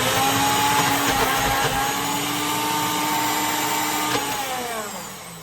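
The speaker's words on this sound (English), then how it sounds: "Blending very well, but it's pretty much pureed anyways." A blender purees cooked pumpkin with a steady high whirring motor drone that shifts pitch slightly and fades toward the end, close and loud.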